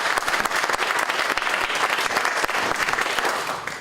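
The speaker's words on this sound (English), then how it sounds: "Let's give her a round of applause." Steady, dense applause from an audience at a community forum on immigration on Martha's Vineyard, a loud wash of many hands clapping that holds evenly for about four seconds with no voices over it.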